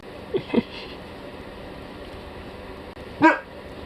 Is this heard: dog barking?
yes